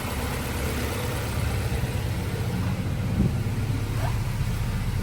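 Honda B18C engine idling low right after its first cold startup in an Integra LS, a steady low rumble close by with a faint high whine and a few small clicks.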